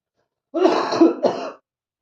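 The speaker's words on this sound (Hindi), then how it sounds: "मुझे जुकाम हो रहा है इसलिए खांसी हो रही है।" A single harsh, throaty cough from a cold in two quick bursts, close and loud, then silence.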